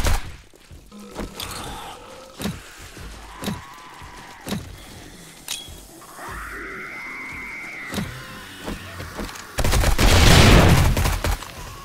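Gunfire in 7 Days to Die as a legendary zombie is shot repeatedly on horde night: a series of sharp, spaced shots over about ten seconds, with a louder, denser burst of noise near the end.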